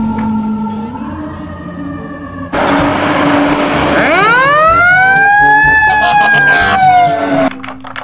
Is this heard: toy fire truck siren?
yes